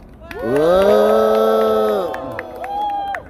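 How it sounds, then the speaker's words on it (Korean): A crowd at a Korean political reform declaration event cheers to welcome guests, with loud sustained voices shouting together in a long rising whoop that peaks and fades, light clapping mixed in. "우리의 환호성과 박수로 환영하도록 하겠습니다"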